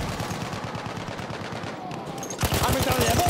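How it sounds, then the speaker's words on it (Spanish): Machine gun fire in the Battlefield 1 video game: rapid bursts of automatic gunfire with rhythmic, closely spaced shots, becoming louder and denser near the end. "¡Ametralladora detectada!"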